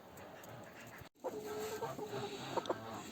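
Chickens released from their coop cluck softly at a distance, a few short calls and faint squawks rising over quiet outdoor background after a brief dropout.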